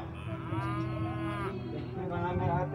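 Cattle mooing in the Roblox game Normal Elevator, a few drawn-out lowing calls rising and falling over a steady low game hum, fairly close and clear, with no talk.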